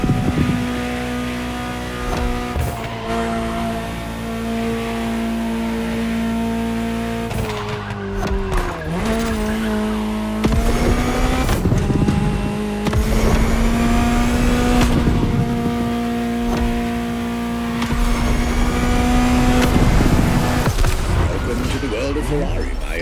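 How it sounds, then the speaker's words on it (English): A Ferrari supercar engine in The Crew Motorfest racing game hums steadily up close, with gear changes, revving surges and brief tyre squeals over continuous mixed game sound and music. "Just listen to the car you're driving."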